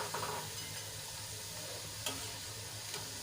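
A besan (gram flour) snack fries in hot oil, giving a steady, even sizzle with soft bubbling crackles and no voices.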